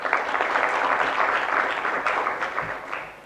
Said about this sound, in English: Colleagues, a round of applause for our moderator.